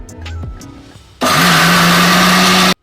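A mixer grinder blending peanuts into peanut butter starts abruptly and runs as a loud, steady, high-pitched whir for about a second and a half before cutting off; faint kitchen noises come before it.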